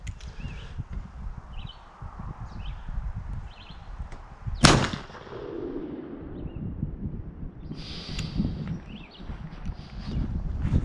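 A LeMat revolver's shotgun barrel firing a single round ball at 20 yards outdoors, one sharp loud crack near the middle followed by a short decaying rumble, surrounded by faint rustling and ambient noise.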